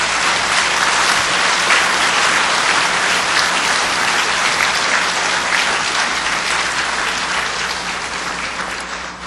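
Loud, dense applause from a lecture audience at a commemorative talk marking the first anniversary of the October 4 inter-Korean summit declaration, steady throughout and tapering slightly at the end.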